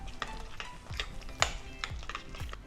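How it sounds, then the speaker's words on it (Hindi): Peanut butter and banana being mixed together for oat chocolate cookies, a close, soft series of sticky spoon strokes and scrapes against a bowl in an irregular rhythm, with no talking. "एक बार पीनट बटर और बनाना को अच्छे से मिक्स कर लेते हैं।"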